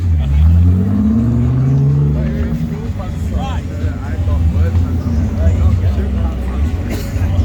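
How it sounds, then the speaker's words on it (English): Drift cars at a motorshow on a racecourse, engines roaring and revving loudly in a continuous, strong drone, with someone talking over the noise. "Just listen to the sound of those engines roar."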